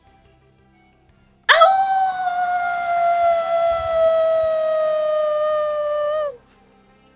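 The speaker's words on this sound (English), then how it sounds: "This wolf." A single long, loud, drawn-out howl, sustained for about five seconds with a steady tone and rich harmonics, tapering off at the end and then stopping.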